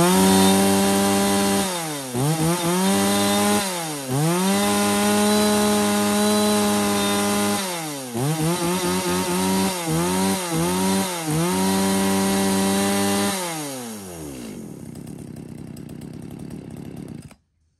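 A 35cc chainsaw fitted with a decompression valve is pulled and fires, its engine revving up and down in repeated loud bursts for several seconds before cutting off, alone with no talk.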